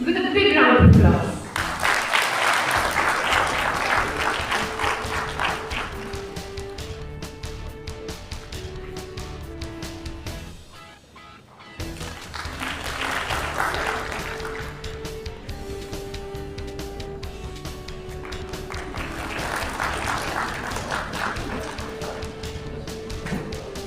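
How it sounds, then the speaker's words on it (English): An audience at an international conference breaks into applause, a sustained patter of clapping through most of the stretch with a brief dip midway, mixed with hall reverberation. "Let us welcome him with a big round of applause."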